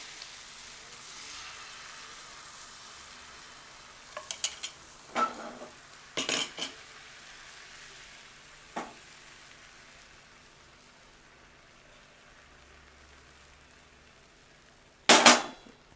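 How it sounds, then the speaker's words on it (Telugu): A spicy bread omelette frying in oil in a pan: a soft, steady sizzling hiss runs throughout, with scattered clinks of a utensil against the pan and a sharp scrape near the end, with no voices. "ఇలాగే ఇంకొక ఆమ్లెట్ వేసుకుందాం. ఆయిల్ వేసుకున్నాం కదా"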